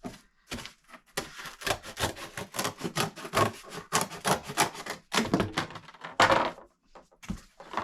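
Cardboard for packing a video game is cut with repeated rasping, scraping strokes in irregular bursts, close and fairly loud, with no voices.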